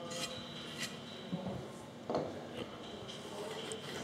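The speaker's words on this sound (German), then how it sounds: "ziehe einmal mit dem Pad drüber" A cleaning pad is drawn over a scratched surface in a mechanic's workshop, giving soft, close rubbing and light scraping with a few brief knocks, fairly quiet throughout.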